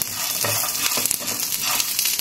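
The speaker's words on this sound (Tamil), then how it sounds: "இந்த மாதிரி அந்த கருவேப்பிலை பூண்டு அதெல்லாம் வறுக்கிறது செம்ம வாசனையாக இருக்குது" Garlic and curry leaves frying in a pan, giving a steady, close, broadband sizzle with faint stirring scrapes throughout.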